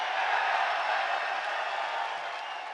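Crowd cheering and applauding at a UFC 284 press conference in Perth, Australia: a dense, steady wash of clapping and roaring voices that fades slightly toward the end.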